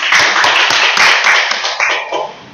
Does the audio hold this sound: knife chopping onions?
no